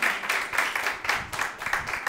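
Applause from a studio audience on a quiz show, a brief burst of steady clapping from a small crowd, moderately loud and even throughout.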